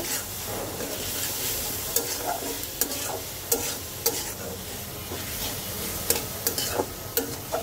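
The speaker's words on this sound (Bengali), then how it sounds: "এবার সুন্দর করে এটাকে ভাজা ভাজা করব" Onions and spices stir-fried in a pan for a mung dal with catla fish head, steady close sizzle broken by repeated sharp scrapes and clicks of a spatula against the pan, with no talking.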